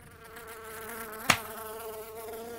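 Cartoon bees buzz in a steady, droning hum, broken once by a sharp click partway through.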